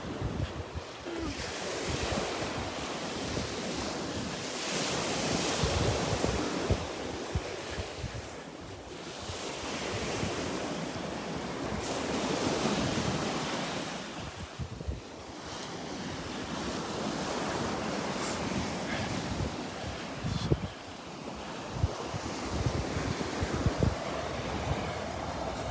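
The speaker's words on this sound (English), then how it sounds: "Just leaving the park and stepping foot onto Vanderbilt Beach." Waves wash in steadily at Vanderbilt Beach beside Delnor-Wiggins park on a Sunday morning walk, broad surf roar mixing with gusty wind buffeting the microphone, continuous and fairly close with swells rising and falling, no voices.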